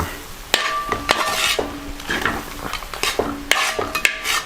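Mutton head thoran stirred in a pan, with repeated close metal scrapes and clinks of the utensil against the pan over a continuous sizzling fry.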